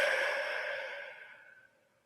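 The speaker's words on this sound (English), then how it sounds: "Just keep breathing in," A long, slow breath during a guided meditation, soft and close, fading steadily over about two seconds into near silence.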